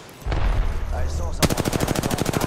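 Rapid automatic gunfire in a squad-based shooter video game, starting after a short stretch of softer game noise and then rattling off as a fast, even stream of closely spaced shots.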